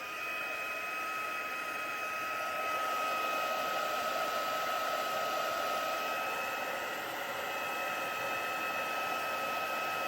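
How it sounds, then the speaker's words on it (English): A heat gun blows hot air onto white card for metallic flowers, a steady loud whoosh with a faint whine that runs unbroken for ten seconds, no voices. "I'm going to get my heat gun in and I'm just going to heat these ones up"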